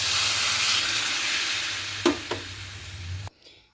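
Coconut and water being stirred into an egg kurma gravy in a pan, giving a steady close simmering hiss with two sharp spoon knocks near the end before the sound cuts off.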